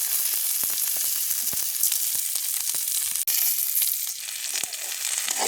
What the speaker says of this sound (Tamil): நல்ல வடிவாக எல்லாத்தையும் சேர்த்து பொறிப்போம்